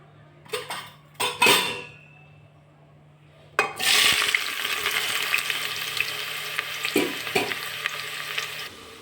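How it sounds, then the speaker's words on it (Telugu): Onions hit hot oil in a pressure cooker for a mutton curry: a few metal clatters, then a loud, steady close sizzle that keeps hissing and crackling to the end, with occasional utensil knocks. "కుక్కర్లో నూనె వేడైపోయింది ఇప్పుడు ఉల్లిగడ్డ వేస్తాను"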